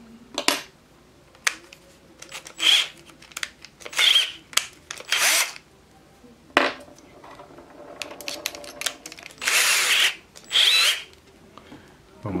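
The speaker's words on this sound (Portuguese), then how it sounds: "Vamos perfurar." Bosch power drill boring a hole, heard in several separate bursts of whining motor noise with short pauses between them, close by and fairly loud, together with faint clicks and handling sounds.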